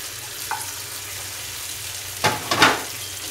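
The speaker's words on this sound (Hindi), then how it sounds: "अदरक लहसुन को थोड़ा सा फ्राई करने के बाद इसमें हम शामिल कर देंगे कलेजी।" Chicken liver frying in a pan with ginger and garlic, a low steady sizzle with a few sharp stirring scrapes and clinks near the end, no talking.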